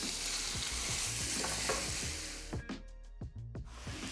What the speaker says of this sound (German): Ja, das Öl ist heiß, also kommt schon mal das Fleisch dazu und angebraten.